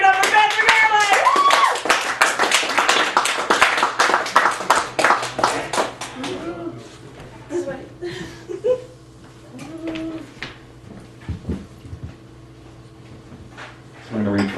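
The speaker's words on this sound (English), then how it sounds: "give a screaming round of applause for our next one" An open-mic audience at Chicago's Cafe Gallery claps loudly for the next poet, a dense burst that thins into scattered claps and fades out by the middle, followed by quieter room noise and shuffling.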